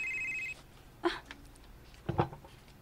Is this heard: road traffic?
no